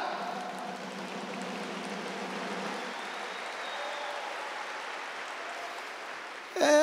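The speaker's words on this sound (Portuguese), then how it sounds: "As palmas, embora eu não esteja pedindo para bater palma" Church congregation applauding during a Catholic Mass homily, a sustained wash of many hands clapping at moderate distance, fading slightly before a brief louder sound at the end.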